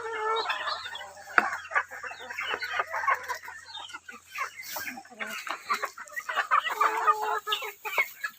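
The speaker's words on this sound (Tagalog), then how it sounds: "Ayan po, ang dami nilang alagang manok." Many chickens cluck and a rooster crows on a muddy rain-soaked farm, busy overlapping calls close by with a few sharper squawks, and a voice speaks now and then among them.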